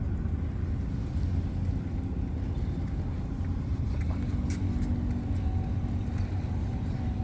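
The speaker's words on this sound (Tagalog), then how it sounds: "Traffic." Road traffic near Coney Island in New York rumbles steadily at a moderate distance, a continuous low wash of passing vehicles heard outdoors with no talk.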